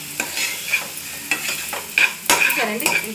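Cucumber pickle tempering in hot oil, with a crackling sizzle broken by several sharp spoon or pan scrapes and stirring clinks, close and fairly loud, no voices.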